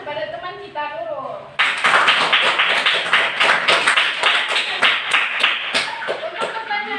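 Classmates in a classroom give a round of applause for a student who answered correctly, with steady, dense clapping starting suddenly after a teacher's voice and continuing loud and close for several seconds.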